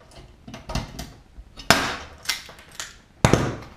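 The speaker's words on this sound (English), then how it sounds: "I'm going to just go straight in and rivet it" Rivets set into an aircraft wing rib in a Zigolo build, heard as a few sharp, close metallic snaps and taps at irregular intervals, the loudest two standing out clearly.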